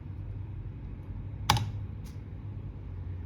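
A single sharp computer keystroke followed by a fainter second tap, entering a command to read a dust sensor on an Arduino solar tracker project, over a low steady room hum.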